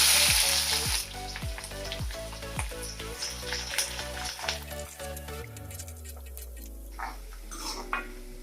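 Onions dropped into hot oil with cinnamon, cardamom and cloves, sizzling and frying with rhythmic clanks of a spoon stirring against the pan, fairly quiet and close.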